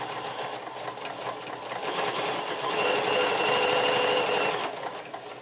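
A sewing machine hums steadily and close as it stitches pajama bottoms, a continuous whirring run that swells slightly before easing off at the end.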